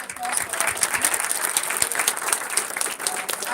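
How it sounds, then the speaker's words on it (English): Audience applause at a talk on modern feminism, a steady dense clapping sustained throughout, fairly close and loud, with cheering voices mixed in. "A big round of applause for all of"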